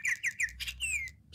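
A Walker Squawker toy bird sings while swinging on a powered bird swing, giving several close, bright electronic chirps and a longer sliding whistle over a low steady hum.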